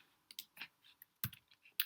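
Arrow keys on a computer keyboard are pressed one at a time during slide editing, giving sharp, close, irregular clicks with short gaps and a louder tap near the middle.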